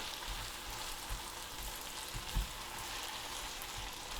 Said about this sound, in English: now we're just going to fry these